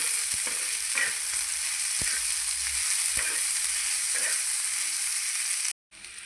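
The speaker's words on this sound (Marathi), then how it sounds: "आता चांगलं टोमॅटो मऊ होईपर्यंत परतून देणार आहे" Onion and tomato with coriander stems sautéing in a pan while chole is being made, a steady close sizzle with occasional stirring clinks and scrapes, briefly cutting out near the end.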